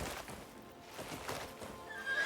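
Horse in a video game whinnying and snorting amid clip-clopping hooves, a brief, fairly faint outburst of breathy neighing over continuous movement noise.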